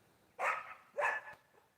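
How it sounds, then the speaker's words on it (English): Two short, high yappy barks in quick succession from young puppies on a farm in the early morning, fairly faint against a quiet background. "You hear the puppies."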